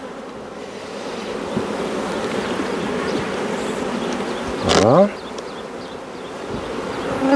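Honeybees buzz densely around an opened hive with open brood and a queen excluder, a loud continuous hum close by, one bee sweeping past midway, while a voice speaks briefly.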